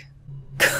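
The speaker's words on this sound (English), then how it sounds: "I hear a dude clearing his throat out there." A single short throat clear from a man in the video game Dishonored, a brief rough rasp following a moment of near silence.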